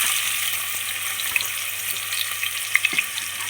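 Sliced onions fry in hot oil for mutton biryani, giving a steady soft sizzle with a few small pops and crackles; the cooking noise is moderate and continuous, with no talking.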